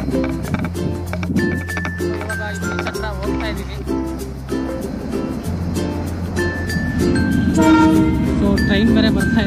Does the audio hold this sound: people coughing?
no